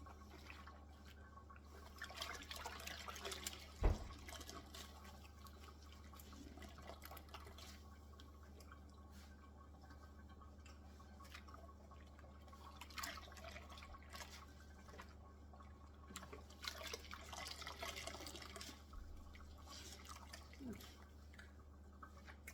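Dried bitterleaf being washed by hand in a bowl of water makes soft, continuous splashing and dripping, quiet and close, with occasional louder sloshes and a light knock.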